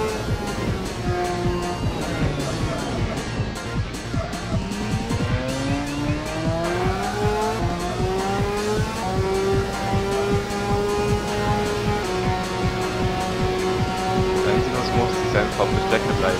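Game engine audio from MotoGP on PlayStation 2, a motorcycle race at the Paul Ricard circuit: a steady, loud engine whine rising and falling through gear changes across the whole stretch, with a voice talking over it.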